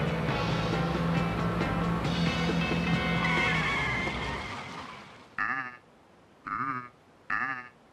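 After a long stretch of engine and road noise from a moving car, three short goat bleats come one after another, separated by pauses, fairly close.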